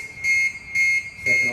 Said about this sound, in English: So there it's going into pre-alarm.